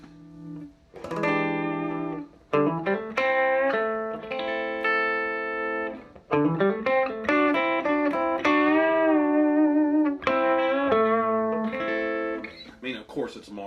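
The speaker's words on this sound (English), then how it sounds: "I am really enamored with the clean tone of this amp." A Marshall DSL40c guitar amp plays a clean electric guitar tone, chords and melodic notes ringing out with reverb in a steady, moderately loud passage, no talking over it.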